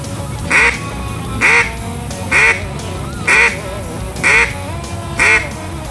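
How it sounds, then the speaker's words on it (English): Six loud, evenly spaced quacks from a duck call, each a short nasal blast about once per second, close and clear. "you really want to learn the basic quack"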